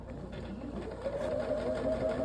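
Sewing machine stitching quilt top seams, a steady close mechanical whir with rapid rhythmic needle ticking that rises slightly in pitch midway and runs continuously.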